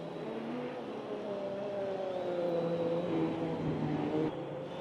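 A Nissan Group C race car roars during a multi-class sim race, its engine droning and rising in pitch as it accelerates, a steady, moderately loud whine that dips briefly near the end with no talking.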